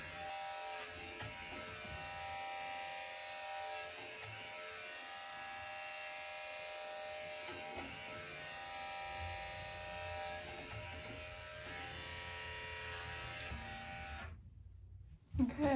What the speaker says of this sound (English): Fresh shave.